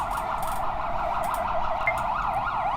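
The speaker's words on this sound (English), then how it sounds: "Chief turns on his sirens as they scream through the city." Police car siren wailing steadily in a rising and falling cycle, loud and continuous over a low traffic rumble.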